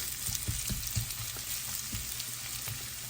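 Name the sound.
onions and peppers frying in a pan for shakshouka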